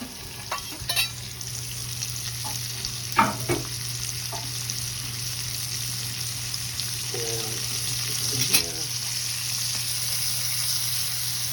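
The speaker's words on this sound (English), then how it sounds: "we're gonna put this in the bacon grease. So this is one whole onion." A whole onion fries in bacon grease in a cast iron skillet, giving a steady, close sizzle with a few scraping stirs and soft clinks along the way.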